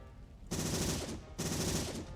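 Gunfire in the video game Robocop Rogue City comes as two loud, close bursts of rapid automatic fire, each lasting under a second with a short pause between.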